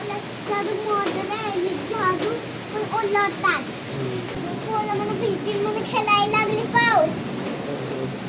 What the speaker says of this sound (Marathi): पोरं बिल्डिंग वरती पाऊस खेळू लागलाय हो.